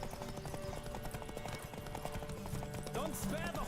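A horse gallops in the video game The Witcher 3: Wild Hunt during a race, its hooves clip-clopping in a fast steady rhythm close up, mixed with game sounds and a brief voice-like cry near the end.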